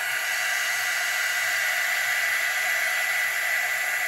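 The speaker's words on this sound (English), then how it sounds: "this is heat gun is like that little mini hair dryer" A small handheld heat gun, resembling a mini hair dryer, blows across poured acrylic paint on a tissue box holder, giving a steady, close airy whine and hiss that holds constant throughout.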